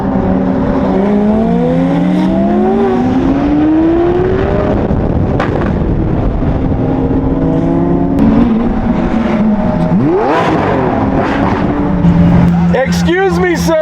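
Several McLaren supercars and a Lamborghini Aventador rev and roar on the Las Vegas Strip. Engines rise and fall in loud, sustained sweeps that overlap, with a sharp burst of revs near the end.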